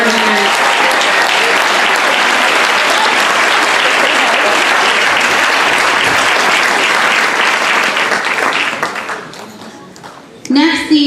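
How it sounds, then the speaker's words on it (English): Loud, sustained applause fills a hall as an awards ceremony audience claps for honored students, steady for about nine seconds before fading, then a voice begins speaking at the end. "Everybody a round of applause for our gold award winners."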